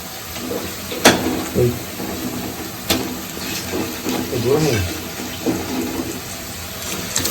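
Chicken pieces dropped one at a time into a hot pan for chicken curry, giving a steady frying sizzle with sharp bursts near the start and middle as each piece lands, fairly close and moderately loud, with no talking.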